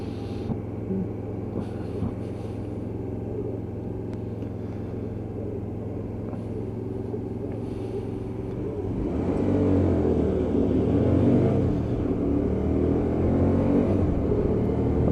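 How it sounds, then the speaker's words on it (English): A Hyosung GT125R motorcycle engine drones steadily, then swells louder and rougher about two-thirds through as the rider accelerates quickly through the gears, keeping the revs moderate. "Obviously getting through the gearbox as quick as possible, so we're not pushing the revs too hard."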